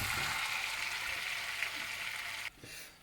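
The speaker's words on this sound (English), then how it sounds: "We've got our butter melting, and all we're going to do now is going to give the squash a sweat in the butter." Diced squash sweats in melted butter in a pan, giving a steady broadband sizzle with faint stirring clicks, cutting off abruptly near the end.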